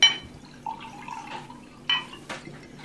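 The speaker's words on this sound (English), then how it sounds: "I'm going to pour some Pinot Grigio." Chilled Pinot Grigio white wine splashes into a glass in short, faint pours and trickles, with small clinks and drips between them in a quiet room.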